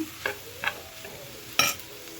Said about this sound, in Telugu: సోయా సాస్ వేసుకొని మళ్ళీ ఒకసారి కలిపేసుకుందాము